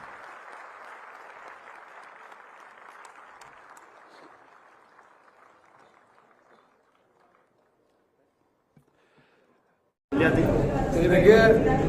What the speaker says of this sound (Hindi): तो अब आपकी तालियों की आवाज उसकी गूंज आनी चाहिए